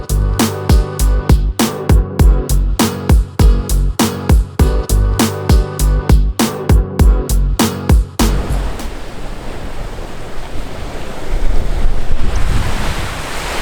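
Waves on the Lake Michigan shore with heavy wind buffeting the microphone: a loud, steady rhythmic pulsing gives way to a continuous roaring wash.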